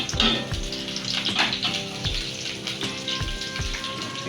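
Four onions frying in a pan for a Bengali chicken curry with potato, papaya and peas, a steady close sizzle with crackles and a few scraping stirs, no talk.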